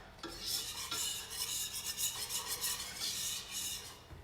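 A roux of flour and butter in roughly equal parts begins cooking as a utensil stirs it, making a soft, repeated rasping scrape with a faint sizzle underneath, quiet and close.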